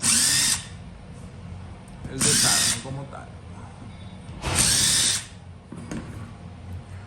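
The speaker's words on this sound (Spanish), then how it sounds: "Vamos a emplear un taladro para quitar los tornillos" A power drill whirs in three short, loud bursts separated by pauses as it removes screws from a steering module, with a brief softer spin at the end and a voice speaking quietly between.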